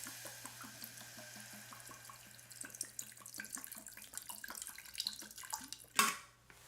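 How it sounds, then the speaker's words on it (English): Water runs from a tap into a cooking pot in a kitchen, a steady faint stream with small splashes and clinks, ending in a brief louder gush. "I don't know how much water this is."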